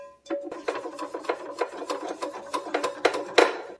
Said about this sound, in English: even now with some hard brush scrubbing down with the sponge that we have there